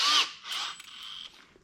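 A power drill boring holes in a shop dust collection setup, with a short high-pitched whine, then a longer sustained drilling pass that fades out, close and fairly loud.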